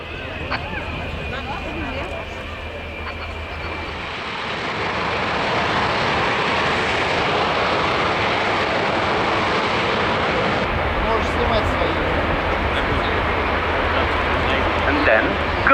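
Frecce Tricolori jets release their brakes and take off along the runway at an airshow, and their loud engine roar swells into a sustained, broad rumble. A commentator's voice runs over the noise.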